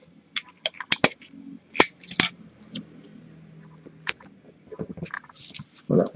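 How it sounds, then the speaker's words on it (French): Several quick, sharp ripping and crackling bursts of adhesive tape being torn, close and fairly loud, separated by short pauses with faint handling noise in between. "Je vais remettre un bout de scotch."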